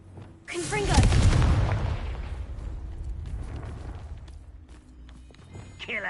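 A Confringo fire spell from Hogwarts Legacy goes off as a single loud, booming blast, its rumble slowly fading over several seconds amid game sounds, with a faint sweep near the end.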